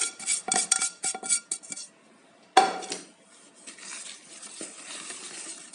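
Flour being mixed into vanilla cake batter in a bowl, with close clinks and scrapes of a utensil against the bowl in quick bursts, a sharp knock midway, then softer stirring.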